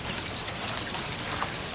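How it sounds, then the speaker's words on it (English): Steady rain falls on a garden, a dense continuous patter of drops spread evenly throughout, close and fairly loud, with no speech. "So definitely getting rained on good."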